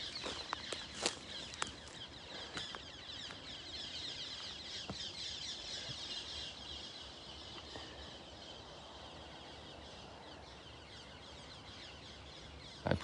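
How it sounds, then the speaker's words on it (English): Birds, including what sound like chickens, call outdoors in short, scattered chirps and clucks over a quiet, faint background, with no voices. "I presume you can hear the birds."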